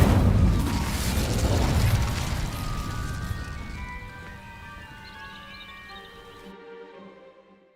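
Incendio fire spell setting dry vines ablaze in Hogwarts Legacy, a loud whooshing burst at the start that settles into a crackling, rumbling burn, then fades out gradually over several seconds with lingering tonal shimmer.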